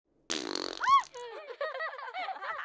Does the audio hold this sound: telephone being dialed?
no